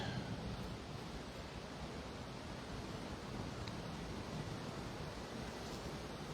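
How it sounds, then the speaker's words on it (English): The river running through the middle of Dumfries town rushes past at close range, a continuous broadband wash of flowing water with no voices over it, fairly quiet in overall level. "Right here beside us, beside me, beside us, beside the phone, is the river that flows through the heart of Dumfries town."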